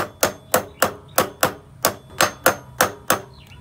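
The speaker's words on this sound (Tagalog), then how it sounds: "Yan, pukpok hanggang sa sumagad." Hammer strikes driving a knuckle bearing cup into place during a wheel knuckle bearing replacement: eleven evenly spaced, sharp metallic blows about a third of a second apart, close and loud with no talking.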